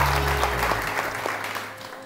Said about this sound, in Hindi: बहुत सारी तालियां रुबाब के लिए